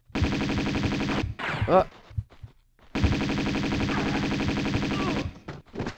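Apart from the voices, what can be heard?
Uzi gunfire from the video game Tomb Raider II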